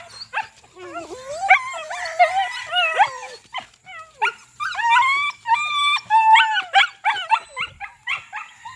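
Several dogs whine, yip and bark excitedly close by, with high-pitched whimpers and short barks overlapping in bursts.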